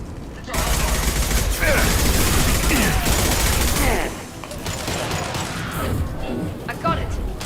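Dense bursts of automatic gunfire and weapon clatter from a firefight in Mass Effect 2, loud and continuous for several seconds, then easing to a rougher, quieter rattle of shots and mechanical noise.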